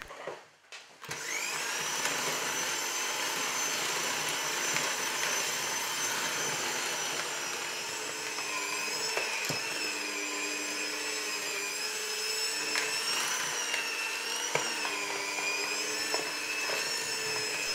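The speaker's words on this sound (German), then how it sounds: "Und dann rühren wir das Ganze mit dem Mixer richtig gut durch für ein paar Minuten." An electric mixer kneads sticky potato and quark dough for milk bread rolls, giving a steady, loud whirring motor drone that starts after a brief quiet moment and runs almost unchanged for about seventeen seconds, with no talking.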